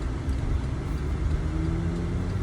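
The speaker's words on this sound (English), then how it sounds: "stop and go traffic" Stop-and-go road traffic heard from inside a car: a steady low engine rumble with a soft whir, holding at an even, moderate level with no voices.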